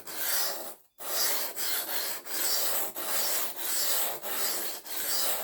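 A knife blade, a new Aurillac knife, being sharpened in repeated strokes: about eight steady rasping passes, each broken by a brief pause, after a short silence near the start, close and fairly loud with no talking.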